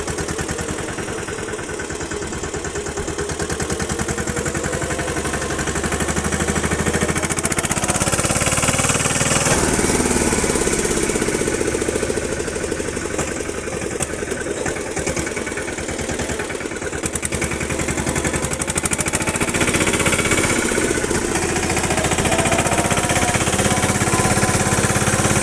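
A tractor engine runs steadily, loud and close, with an even mechanical chug that barely changes over the whole stretch, and no one speaks.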